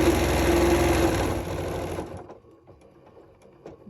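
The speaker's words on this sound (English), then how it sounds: "you're just going to match your straight edge and stitch right down the side" A sewing machine runs a straight stitch down a fabric edge, a steady close whir for about two seconds before stopping abruptly, leaving faint scattered handling noises.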